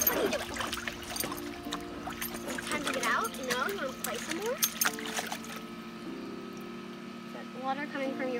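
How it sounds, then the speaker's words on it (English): Water trickles and splashes from an 8-week-old puppy's squeaky ball in a puppy pool, with squeaky, whining tones and shifting splashes running close by throughout. "Water coming from your ball."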